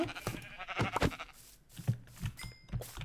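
Sheep in the Minecraft video game bleat repeatedly in short, close calls, with quick shuffling sounds between them.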